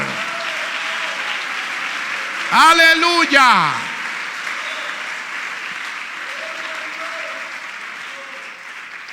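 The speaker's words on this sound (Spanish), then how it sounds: "Démosle fuerte ese aplauso al Señor" A church congregation applauds steadily for the Lord, a dense, even wash of clapping that holds for the full stretch, broken briefly by a single voice calling out mid-way.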